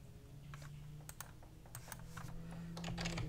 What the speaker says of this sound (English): I'm gonna type here